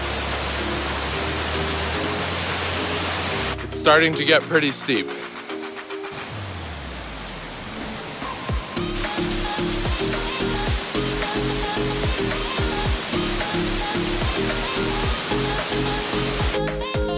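Rushing water from a small waterfall beside the Tuckerman Ravine Trail on Mount Washington, New Hampshire, a steady broadband hiss heard close by under a hiker's voice, with footsteps and breathing on the steep trail.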